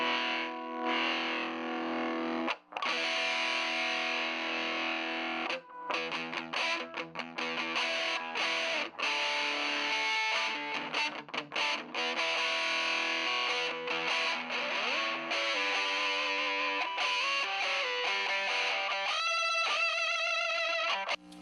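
An electric guitar with humbuckers plays a riff through a T-Rex Totenschlager fuzz pedal, thick and buzzing, with sustained chords and quick note runs, loud and up close.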